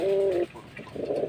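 A pigeon, a young red-tailed bird, gives a loud, close coo for about half a second, followed by quieter rustling and a softer, murmuring low call.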